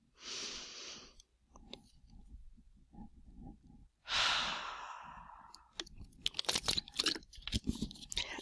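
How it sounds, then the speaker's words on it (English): A person takes a long, slow deep breath through the mouth, two breathy airy swells separated by quieter shuffling and small clicks, followed by crackly rustling near the microphone. "So let's go ahead and take another breath."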